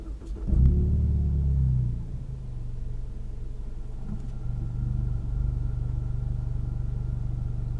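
Ford Mustang EcoBoost heard from inside the cabin after a warm start: an engine catches with a brief louder rev, then settles into a low, steady, quiet idle rumble that continues to the end.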